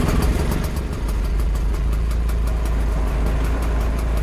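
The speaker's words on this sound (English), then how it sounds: "we're gonna start up the Hoffman, which is of course with the inconveniently placed starter button by your hip" A Hoffman three-wheeler's engine fires up from its hip-level starter button and settles into a steady, loud idle, a continuous low rumble held close by with no voices.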